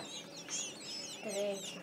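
Newly hatched chicks cheeping in a batch of freshly hatched eggs, high quick peeps overlapping softly and continuously at close range, with a lower clucking sound in the middle.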